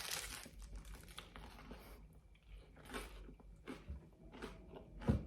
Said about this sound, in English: It's just so satisfying to get that crunch and the big bite into a